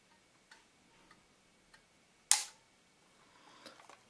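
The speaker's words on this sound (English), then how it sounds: "when I release the the film winder handle, something is set click" A Plaubel Makina 67 camera with a faulty shutter clicks as its film winder handle is released: faint ticks, then one sharp, loud mechanical snap, followed by a soft rattling close by.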